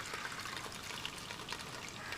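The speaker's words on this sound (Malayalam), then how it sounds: "6 കപ്പ് വെള്ളം ഒഴിക്കണം" Water poured into a pot for chicken biryani, a soft continuous splashing trickle, faint and close, with no talk over it.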